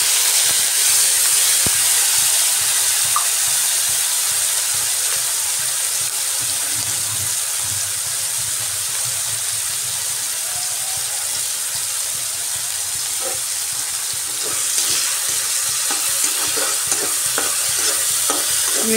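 Salt-and-turmeric-coated shrimp frying in hot oil, a loud, continuous dense sizzle and hiss running throughout, with occasional stirring scrapes near the end.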